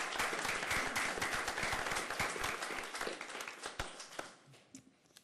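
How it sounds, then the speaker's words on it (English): An audience at a meeting claps, a dense burst of many hands that stays steady and then thins out toward the end, with scattered final claps and no talking. "So give them a round of applause"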